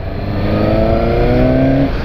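Suzuki GSX-S 750 motorcycle engine revving up close, a loud steady drone with rising harmonic tone for about two seconds, no talking over it.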